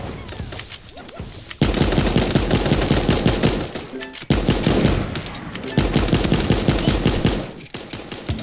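Sustained automatic gunfire in a shooter video game, loud, rapid bursts rattling for several seconds at a time and separated by short pauses, with no speech over it.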